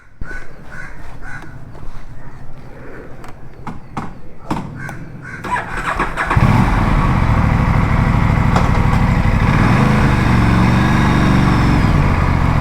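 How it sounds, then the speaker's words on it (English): A 2025 Aprilia RS 457 sport motorcycle engine starts up partway through and settles into a loud, steady drone, with birds cawing and scattered knocks before it. "let's hop onto the bike and go for a drive."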